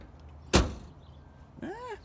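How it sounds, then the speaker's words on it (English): A heavy bullet-resistant Crown Victoria car door swings shut with one solid thud, followed by a short mechanical whir, close and alone. "So let's see if they actually sound any different."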